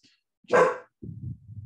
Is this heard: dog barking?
yes